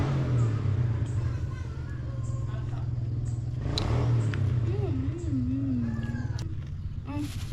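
A nearby motorbike engine runs with a low, steady idle and occasional revs, heard under ongoing conversation and scattered clatter.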